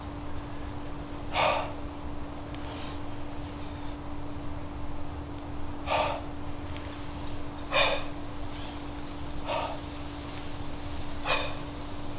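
Sharp breaths drawn in during a push-up demonstration come in separate bursts roughly every one to two seconds over a steady background hum. They are close and fairly loud, with no talk over them.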